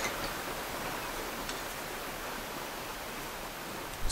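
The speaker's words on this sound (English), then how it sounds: "It's actually not even rain, it's melting snow." Melting snow drips and pours steadily outside, a dense, even patter with faint ticks scattered through it, and no voices over it.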